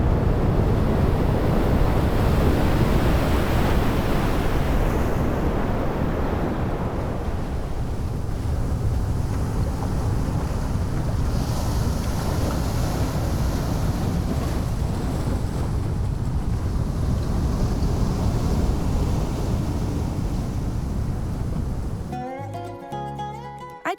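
Large ocean waves break continuously off Hawaii, a loud, sustained roar of surf with heavy wind buffeting, ending in a short burst of other noise.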